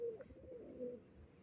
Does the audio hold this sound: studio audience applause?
no